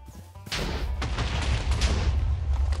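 TNT blasts tear through village houses in the Minecraft video game, a sudden loud boom followed by sustained rumbling, crackling debris and further thumping explosions, close and heavy throughout.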